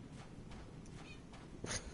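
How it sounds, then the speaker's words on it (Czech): A cat in the Bloodborne video game, heard in the Fishing Hamlet area, gives a couple of faint, short meows over a low game ambience. "A to je kočka."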